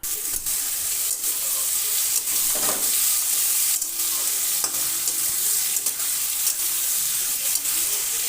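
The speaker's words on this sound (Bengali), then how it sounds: "দিয়ে ভালো করে নেড়ে চেড়ে নিয়ে ভাজা হয়ে গেছে" Crab pieces with tomato frying in a pan, stirred with repeated scraping strokes over a constant hissing sizzle, close and steady with no talking.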